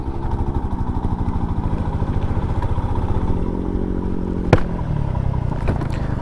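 Bajaj Pulsar 200 BS6 motorcycle ridden off-road, its engine thrumming loud and close with a steady, slightly uneven pulse throughout, plus a brief sharp clack partway through.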